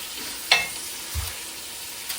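Chili meat browning in a cast iron pot on a stovetop, giving a soft steady sizzle with a sharp clink near the start and a low thud later.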